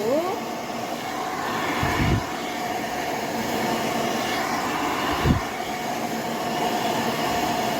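A hair dryer blows a steady, continuous rush of air onto hair roots during a salon curl styling, loud and unchanging throughout, with a couple of brief brush or handling noises and no speech.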